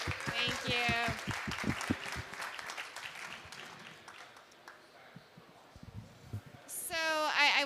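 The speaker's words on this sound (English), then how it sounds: "Huge round of applause for this panel, please." An audience applauds a panel at a conference session on food value chains, a soft wash of clapping under and between voices, with someone speaking at the start and end.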